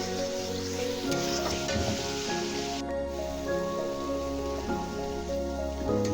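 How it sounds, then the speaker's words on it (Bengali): Spice paste for a Bengali koi fish curry (tel koi) frying in a pan, a steady close sizzle and crackle running throughout, with background music playing over it. "মশলাটা একটু ভালোভাবে কষায় লইতেছি"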